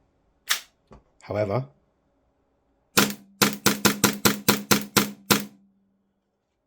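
Action Army AAP-01 airsoft pistol running on HPA air with no magazine, cycling in a quick burst of about ten sharp, snappy clacks after a couple of isolated clicks and a brief spoken word, loud and close.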